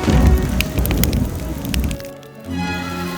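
A cartoon magic fire spell erupts in a loud crackling, hissing burst with sharp snapping pops, then drops away briefly before a lower roaring whoosh resumes.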